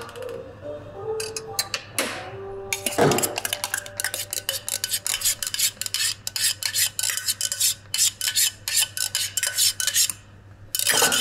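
A bar spoon stirs Tom & Jerry cocktail ingredients together in a glass or tin at a bar, with rapid rhythmic metallic ticking and clinking, near and fairly loud, after a few louder knocks at the start.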